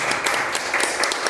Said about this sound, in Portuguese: Pode dar uma salva de palmas ao Jesus.